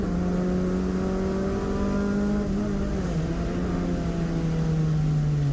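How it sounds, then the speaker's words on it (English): Clubmans saloon race car on semi-slick tyres in the wet, sliding through oil on track: a loud, sustained onboard engine drone holding a steady pitch that sags and wavers slightly as the car fights for traction, no talk. "You hear the little noises as the car just fights for traction as it slides through the oil."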